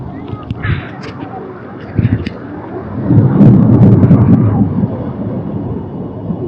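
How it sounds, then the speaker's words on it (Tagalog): Heavy rain pours at a river in Mayantoc, Tarlac, in the late afternoon, a dense steady roar that swells louder midway, with a low rumble like distant thunder underneath. "Ayun, lakas ng ulan."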